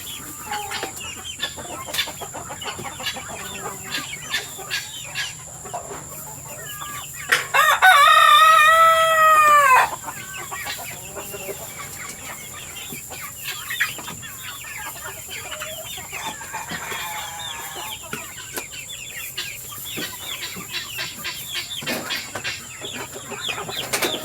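Chickens clucking throughout a poultry yard, with a rooster letting out one loud, close crow partway through and further faint crowing and clucks in the background.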